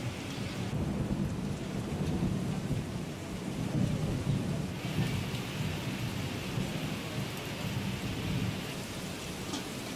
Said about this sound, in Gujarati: શહેરમાં વરસાદનું આગમન થયું